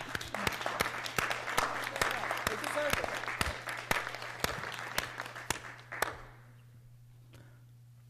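Sustained applause from a room of people at a school board meeting, with sharp individual claps, a voice speaking over it, then the clapping stops and the room goes quiet.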